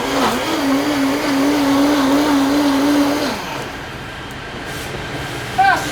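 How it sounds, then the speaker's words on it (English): A kitchen blender whirs steadily on soft vegetables, a loud sustained motor hum for about three seconds before winding down and cutting off, leaving quieter room noise with a brief clink near the end. "Gonna give them a good old blend."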